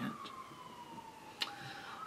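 A siren passes outside, its faint wailing tone gliding downward steadily beneath background noise, with a brief sharp click partway through.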